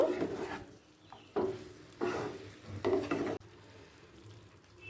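Fried potatoes and cauliflower sautéed with spices in a pan for a Bengali alu fulkopi kasha, with repeated scraping stirs in bursts over a soft, steady sizzle, moderately close.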